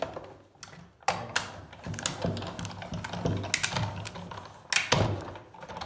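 A Sizzix Bigz die is cranked through a die-cutting machine, giving close, clicking and ratcheting mechanical turns with uneven rhythm and a few sharper knocks.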